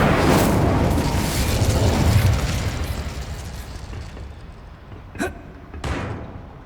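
An Incendio fire spell cast in Hogwarts Legacy, a loud roaring whoosh of flame that swells and fades, followed by two sharp pops or impacts near the end, with no talk.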